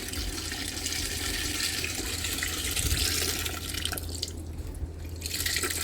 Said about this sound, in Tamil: புளி ஊற்றி நல்லா கொதித்து வரட்டும்.